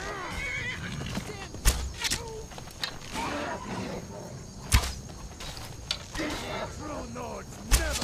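Several horses in Skyrim neigh again and again, their calls mixing with sharp hoof knocks and clip-clop at irregular intervals, close and fairly loud against game ambience.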